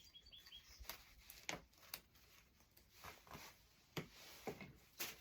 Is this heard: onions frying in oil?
no